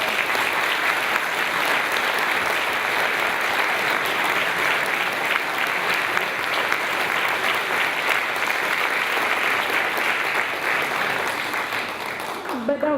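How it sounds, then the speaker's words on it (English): Sustained applause from an audience at a community cleanup meeting honoring its panelists, a dense, steady roar of clapping that carries on for about thirteen seconds before tapering off at the end. "Let's give them a great round of applause."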